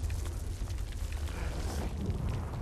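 A dense, rumbling blast in The Darkness II video game keeps a heavy low roar going for several seconds and stays loud and continuous throughout.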